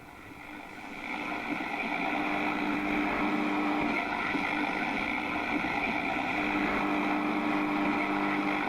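Radio static in The Uncertain video game, a steady hissing rush of noise with a faint humming tone underneath, constant and moderately loud after a brief quieter start.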